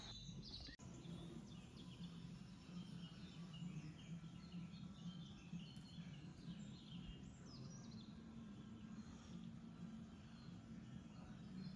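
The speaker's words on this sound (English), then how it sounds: "the birds were already singing" Birds sing faintly in the distance on a crisp mountain morning in Ano Chora, Nafpaktia, with scattered soft chirps over a steady low background hum.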